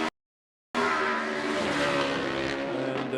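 Racing motorcycles thunder along a street circuit on a warm-up lap at the Macau Grand Prix, a loud continuous engine roar that cuts in abruptly after a brief silence and holds steady close by.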